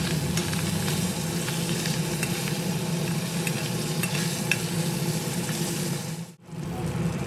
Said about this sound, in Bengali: মাছের মাথার এক পাশ ভাজা হয়ে গেছে, এবার অন্য পাশ ভেজে নেওয়ার জন্য উল্টে দিচ্ছি